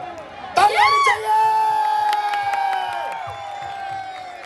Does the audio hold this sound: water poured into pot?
no